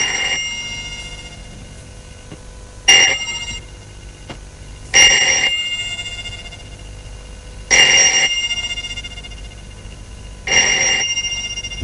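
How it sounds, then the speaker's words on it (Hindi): A telephone rings late at night in a drama scene, four loud, evenly spaced bursts of bright bell-like ringing, each fading into a quiet room hum. "ये किसका फोन हो सकता है?"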